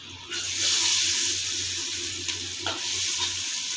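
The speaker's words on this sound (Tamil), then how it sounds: "இந்த எண்ணெயிலே கொஞ்சம் மிளகாத்தூள் போட்டுக்கலாம்" Chilli powder hits hot oil in a pan, giving a steady, close hiss of sizzling that holds for several seconds without any talking.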